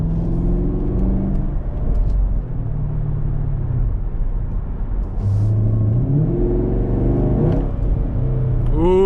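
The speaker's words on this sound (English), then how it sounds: "This is that dual mode exhaust" A 2017 Chevrolet Camaro 2SS convertible's dual-mode exhaust rumbles and revs up and down several times in track mode, loud and close, with a throaty rising and falling engine note.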